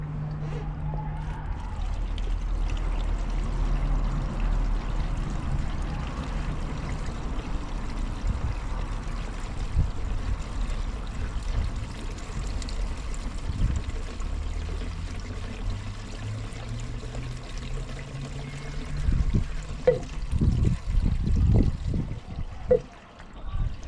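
Diesel pours into the engine of a boat that had sunk, a continuous liquid trickle and gurgle over low rumbling, turning into louder splashy sloshing near the end.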